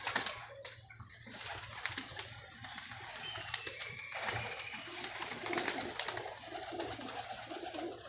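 Chapra (fancy) pigeons coo steadily at moderate distance, soft repeated throaty calls running through the whole stretch over light background noise and occasional wing or rustling sounds.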